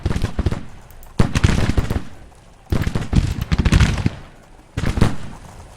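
Musket volleys in Grand Tactician: The Civil War, heard as four loud crackling bursts of massed rifle fire, each a ragged cluster of shots with quieter pauses between.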